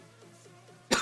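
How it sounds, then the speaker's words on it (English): A single sharp cough bursts out near the end, loud and close, after a second of quiet room tone during a session of the NBA 2K19 video game. "I was about to cough"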